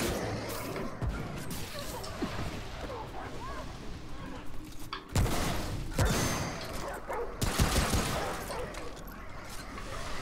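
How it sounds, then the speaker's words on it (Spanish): In the video game Remnant: From the Ashes, a pack of dogs attacks with barks amid bursts of gunfire and crashing impacts, while players talk excitedly over the chaos. "¡Ay, que vienen perretes!"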